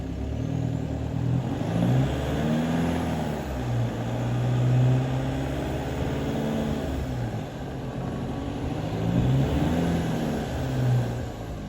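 A 4x4 driving out of a stuck spot in Chichester State Forest, its engine droning steadily and rising and falling in pitch as it revs, loud and close throughout without talk.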